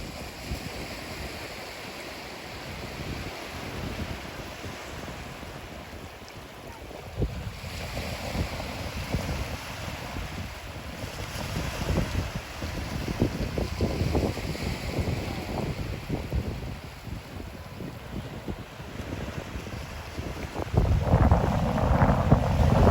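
Beach ambience with waves washing in and out and wind buffeting the microphone, steady and fairly loud, with heavier gusts near the end.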